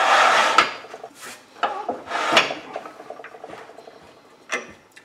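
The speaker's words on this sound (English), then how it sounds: "I'm going to bring my tailstock up" A wood lathe tailstock slides along the bed into position, giving a few scraping, rubbing metal-and-wood strokes with soft knocks, close and moderately loud with pauses between.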